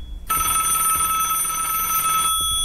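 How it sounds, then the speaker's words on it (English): A bedroom telephone rings in the Roblox game Doors, one sustained electronic trill of about two seconds, starting and stopping abruptly against near silence. "I should pick up the phone."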